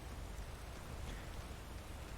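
Steady rain falls in Skyrim near Whiterun amid fog, a soft, even hiss of rainfall continuing at low level with no voices.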